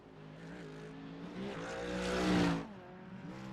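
An LMP2 sportscar prototype pulls out of pit lane at Montreal, its engine note rising steadily as it revs up and draws closer, peaking loudly before easing off, heard alone without talk.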